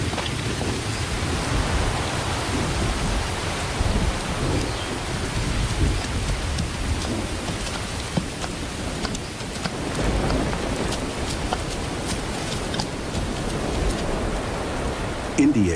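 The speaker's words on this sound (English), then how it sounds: "Nearly 10 inches of rain will soak the ground before the monsoon ends." Monsoon rain pours down in an Indian park as a steady, heavy hiss of rainfall with scattered drop impacts and crackles, continuing throughout at a fairly even level.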